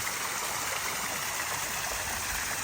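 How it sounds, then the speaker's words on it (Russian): Steady rushing and splashing of water falling into a pond, a constant bright wash of sound with no voices. "было слышно шум воды и смотрелось более красиво"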